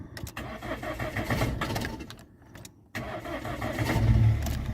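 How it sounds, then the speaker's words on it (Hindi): A car engine is started with the key, the starter cranking in short choppy bursts, then briefly cutting out before the motor catches and settles into a steady, fairly close idle. "ये हमारी गाड़ी होगी अब स्टार्ट"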